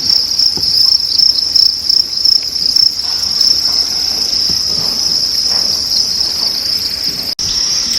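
A dense chorus of crickets on a cricket farm trills continuously and loudly, a shrill unbroken buzz with faint low rustling beneath.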